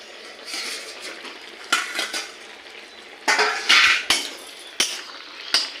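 A steel plate clinks against a pan of okra curry as it is covered, several sharp metallic taps and scrapes spaced irregularly over a soft kitchen hiss, close and fairly loud.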